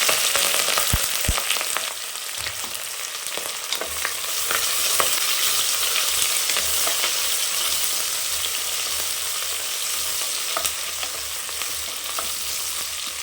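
Onions and green chillies are sautéed on low heat in a pan for veg biryani, with a continuous soft sizzle and occasional scraping of a spoon stirring the mix.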